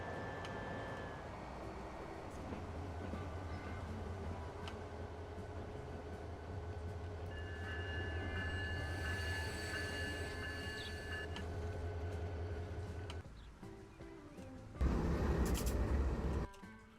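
Locomotives running in the video game Transport Fever, a steady rolling rail rumble with faint tonal whines and squeals, ending in a louder low burst, distant and moderately quiet.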